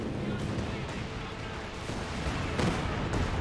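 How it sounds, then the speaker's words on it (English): Calliope rocket barrage from two launchers in Company of Heroes 2, a dense continuous rumble of distant rocket impacts and battlefield explosions, slightly heavier toward the end, with a commentator's voice mixed in. "Yep, both Calliopes are firing right there."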